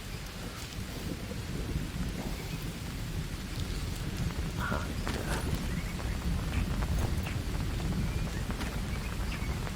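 Rain in the jungle survival game Green Hell falls steadily on foliage and the ground, a constant close patter with scattered louder drops and no talk over it.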